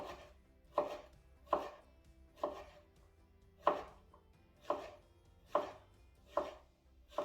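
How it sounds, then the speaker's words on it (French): A knife slices vegetables on a cutting board for a small ratatouille, seven crisp, evenly spaced chops ringing out close and clear against a quiet room, with no one speaking. "On n'a plus qu'à émincer"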